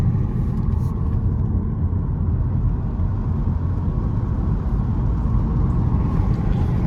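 Cabin rumble of a 2014 Volkswagen Passat TDI diesel on a road test after a valve cover replacement, a steady low drone of engine and tire noise that continues unbroken.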